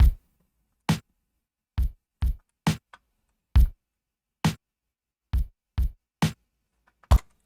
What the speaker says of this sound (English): now our drum loop sounds like this